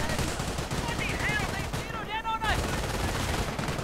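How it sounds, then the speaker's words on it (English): A Vickers machine gun fires rapidly in a World War II video game, giving dense sustained bursts of gunfire at close range that fill the clip, with whistling ricochet-like tones over the firing. "now getting the Vickers machine gun"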